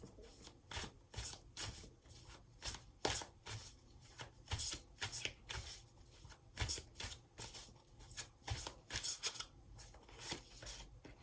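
Tarot cards shuffled and drawn by hand in a steady run of crisp riffling snaps and soft slides, close and clear, with no voices.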